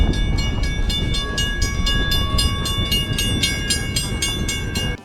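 A steam train in Nevada rumbles along steadily with a rhythmic clatter and a sustained whistle-like tone, loud and close throughout.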